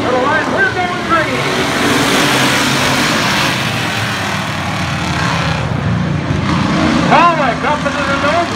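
Hobby stock race cars roar past on the Jefferson Speedway track as the field comes to the line, loud engines revving and sweeping by continuously while an announcer calls the race over them.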